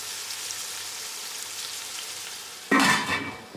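Onions sautéing in a pan until brown for biryani give a steady, close frying sizzle, then a louder burst of sizzling and stirring near the end.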